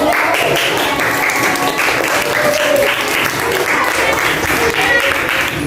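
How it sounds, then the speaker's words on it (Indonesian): Classroom applause from a group of students for a winning team, a steady wash of many hands clapping at close range, loud and continuous with no voices on top. "Ya, tepuk tangan."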